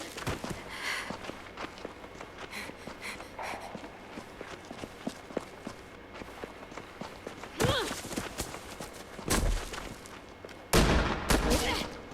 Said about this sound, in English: It's a double barrel shotgun. How does he have 3 shots?